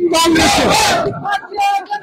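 A crowd at a BJP joining event roars and cheers in welcome for Mohanlal Bhagat, loud and close, with yelling voices over a dense burst that fades into scattered shouts and talk.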